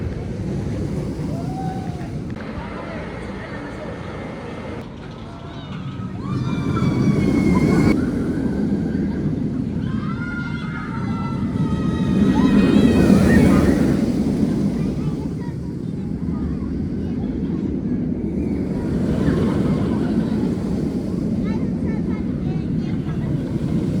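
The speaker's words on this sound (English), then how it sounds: "we are on our first back row ride on Fønix at Fårup Sommerland" Riding the back row of Fønix, a Vekoma roller coaster at Fårup Sommerland in Denmark: loud onboard wind rush and rumbling roar that swells and eases over the run, with no clear talk.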